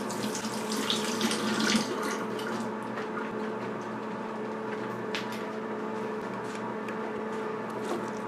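Water from a cooking pot pours steadily into a kitchen sink while draining boxed macaroni, a continuous close splashing rush lasting several seconds with no talking.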